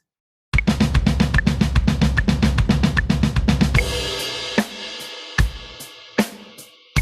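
Drum practice of flam kick 16th-note triplets at 75 bpm: a dense, steady run of rapid hits for about three seconds, then a few isolated strikes ringing out more quietly.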